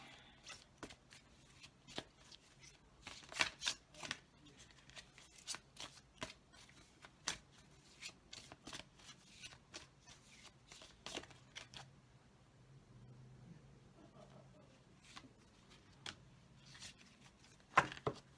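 Sacred Vision oracle cards are shuffled by hand in quick, crisp riffling bursts, some louder and some softer, with brief pauses between them in a quiet room.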